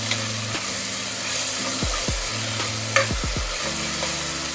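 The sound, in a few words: frying tomato and ginger garlic paste in a pan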